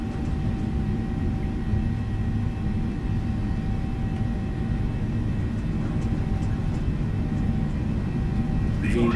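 A PMDG Boeing 737-800 in Microsoft Flight Simulator 2020 roars steadily at takeoff thrust, a loud, constant engine drone and rumble holding throughout.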